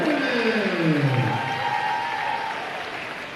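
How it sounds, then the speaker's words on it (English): Applause and crowd noise fill a college men's basketball gym as a senior player is honored, fading gradually over a few seconds while a descending tonal sound sweeps through the start. "one more round of applause for our senior Bryce Molloy."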